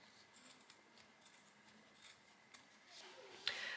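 Scissors snipping a small notch into fabric at a sewing table, a few faint, close, crisp cuts, with a sharper snip near the end.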